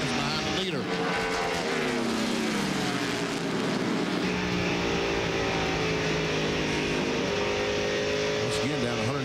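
NASCAR Busch Series race cars scream past at Darlington in 1998, engines revving and shifting pitch as they roar by close and loud, with a commentator talking over the continuous racing noise.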